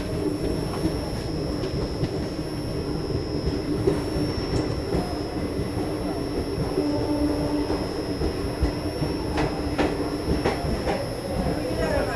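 Passenger train 14320 on the Bareilly–Indore run, just pulled out of Gwalior Birla Nagar, rumbling steadily with continuous rail noise, faint wheel clatter and a high whine inside the coach for the whole stretch.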